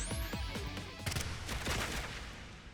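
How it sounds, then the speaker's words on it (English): Sustained rapid gunfire and explosive blasts from a minigun in the video game AI: The Somnium Files - Nirvana Initiative, loud and dense throughout with no talk. "that's a minigun"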